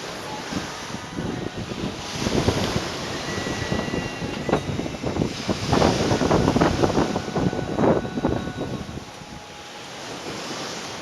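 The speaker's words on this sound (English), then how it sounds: "That's the Red Sea." Waves of the Red Sea wash onto the shore at Dahab, Egypt, in repeated hissing surges that swell and fade, with gusty wind buffeting the microphone.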